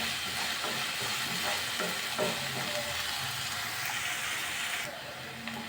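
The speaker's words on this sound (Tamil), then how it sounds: "2 மீடியம் சைஸ் வெங்காயம் கட் பண்ணி வச்சுருக்கேன், சேர்த்துக்கிறேன்." Chopped onions and curry leaves sizzle and hiss in a hot pan, a steady close frying sound with a few stirring scrapes, easing off near the end.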